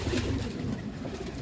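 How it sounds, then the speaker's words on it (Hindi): Sherazi pigeons coo softly at close range while feeding on scattered grain, a low murmuring call that continues through the brief moment. "अपने कबूतर आराम से मजे से खा रहे हैं"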